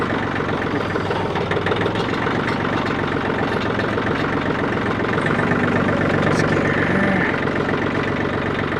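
A forklift engine runs steady and loud in first gear, carrying a welding cart over rough, muddy ground, with a continuous low rumbling drone and rattling vibration throughout.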